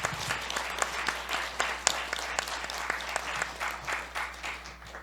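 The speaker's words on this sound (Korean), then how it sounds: "서로가 서로를 격려하며 큰 박수로 환영하겠습니다" Applause from a church congregation at a Methodist Christmas Sunday service, steady dense clapping in a hall that holds for several seconds and fades slightly toward the end, with no voices over it.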